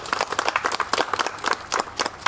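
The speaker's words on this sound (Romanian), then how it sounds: "Să-i aplaudăm." Guests at a civil wedding ceremony applaud the couple with a short burst of clapping from a small group, close and fairly loud, the uneven claps rising and falling over about two seconds.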